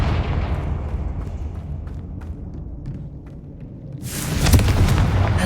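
A Confringo blast spell explosion in Hogwarts Legacy erupts as a loud booming burst near the end, after a stretch of softer rumbling and crackle, with no talking.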